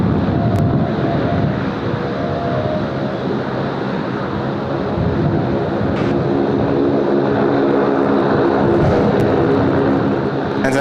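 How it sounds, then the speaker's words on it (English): A Saab propeller aircraft at Sydney Airport drones steadily and loudly throughout, a continuous engine and propeller roar with faint tonal hum and no talk over it. "Another noisy little Saab there as well."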